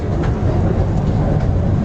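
Train at a busy railway platform in Chuadanga, a loud steady rumble and rolling clatter filling the whole stretch without talk.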